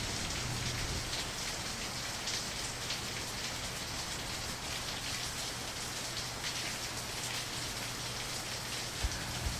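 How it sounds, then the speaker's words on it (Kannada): Steady morning rain falls in Shivamogga in the Malnad region, a dense continuous patter on surfaces that holds level and fairly loud throughout with no voices. "ಬೆಳಗ್ಗೆ ಶಿವಮೊಗ್ಗ ತಲುಪಿದಾಗ ಮಳೆ ನಮ್ಮನ್ನು ಸ್ವಾಗತಿಸೋಕ್ಕೆ ರೆಡಿಯಾಗಿತ್ತು"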